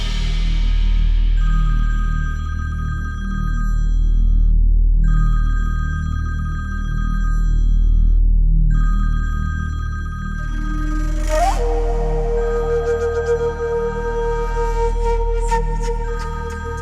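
A telephone rings unanswered in a drama scene, sounding in regular repeated bursts with short silent gaps over a low, steady background bed, before a different tone takes over near the end.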